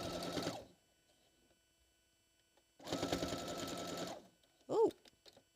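A sewing machine stitching fabric runs in two short bursts of rapid mechanical whirring separated by a quiet pause, followed by a brief click, close and loud.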